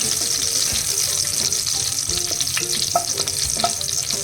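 Garlic frying in a pan, a loud continuous sizzle with intermittent spoon scrapes and stirring clicks close up, without any talking.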